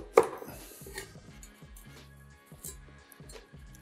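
A knife cuts through a halved pear on a cutting board, one sharp close chop followed by a quieter second cut, with a faint low background hum.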